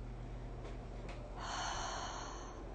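A yoga instructor breathes out audibly while folding forward, a close, airy exhale that swells after a couple of small breathy sounds, with no talk.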